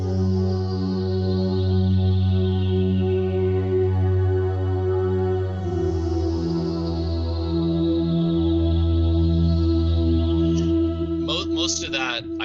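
Sustained synth pad from the Sytrus synthesizer in Fruity Loops, warm layered chords that shift partway through and hold steadily, with a few brief higher blips near the end, no voices.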